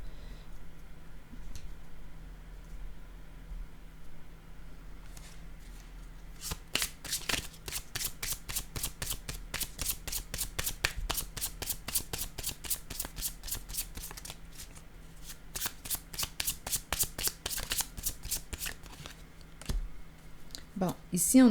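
Tarot cards being shuffled and drawn, a quiet start giving way to long runs of rapid, riffling flutter that pause and resume before a final card is pulled, all close up.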